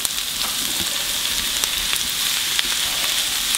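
Diced potatoes and vegetables sizzle steadily in a hot frying pan, a continuous close crackle with small pops and no talking.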